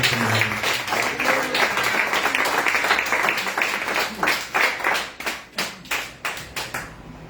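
A church congregation claps together in a full burst of applause that thins out into a few separate, sharper claps before fading away.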